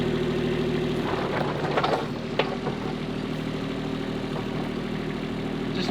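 A vehicle engine idles steadily with a low, even hum while the machine pushes into roof material during a house build, a few brief clunks and scrapes rising over the drone.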